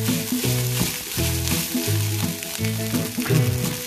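Cooked rice fries on very high heat for Chinese fried rice, a constant loud sizzle punctuated by rhythmic metallic scrapes and clangs of a spatula against the pan.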